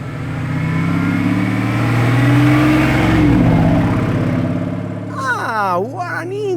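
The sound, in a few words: Lamborghini Revuelto engine driving past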